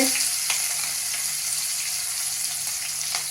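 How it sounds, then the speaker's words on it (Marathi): Curry leaves and green chilli pieces sizzling in hot oil for a tempering, a loud steady crackle with sharp pops scattered throughout. "फोडणीमध्ये कढीलिंब मिरच्यांचे तुकडे"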